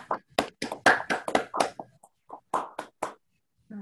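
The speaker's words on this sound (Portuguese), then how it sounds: "eu gostaria de propor uma salva de palmas aí ainda para a Lídia" Scattered hand claps from an online audience with microphones opened at the close of a webinar, a dozen or so uneven claps in quick bursts, close and dry, trailing off into a brief voice.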